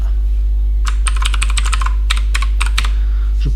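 Code for a TeX package being typed on a computer keyboard: quick close key clicks in uneven clusters over a constant low electrical hum, with no speech.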